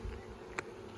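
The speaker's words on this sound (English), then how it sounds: "There's a bee on my leg." Honey bees buzzing around a beehive during beekeeping, a faint low hum with a single brief louder pass close by, no voices.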